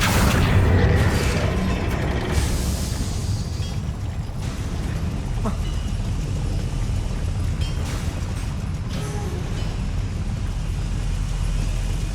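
A Confringo blasting spell explodes in the Hogwarts Legacy video game, a loud booming burst at the start that settles into a steady rumbling roar of game noise.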